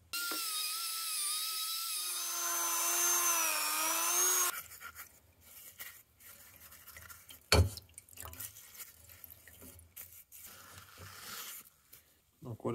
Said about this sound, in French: je vais passer un coup de Dremel avec une petite brosse, mais ça, en fait, c'est du feutre